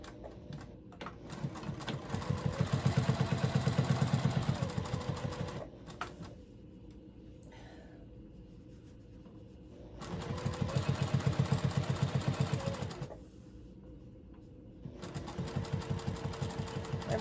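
Home sewing machine stitching a thick cross-body bag with a standard thin needle, running in three steady bursts of rapid, even mechanical chatter separated by quiet pauses, close and clear with no talking.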